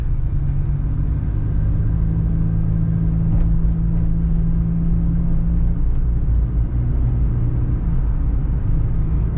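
A car drives along a rough, broken stretch of University Road toward Gulshan-e-Iqbal in Karachi, giving a steady, close engine rumble with road noise and no talking.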